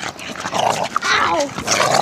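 A dog yips, whimpers and growls in a frantic scuffle at close range, mixed with a person's shouts and cries of pain.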